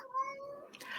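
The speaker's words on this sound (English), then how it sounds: "If you can hear my cat meowing" A house cat gives a single drawn-out meow, close and clear, that rises then trails off over about a second.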